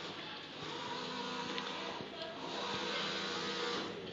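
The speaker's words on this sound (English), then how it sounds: "This is Epson DX5 UV flatbed printer." An Epson DX5 UV flatbed printer prints on acrylic with a single printhead and a water-cooled UV lamp, giving off a steady mechanical whir and hum with faint tonal whines throughout.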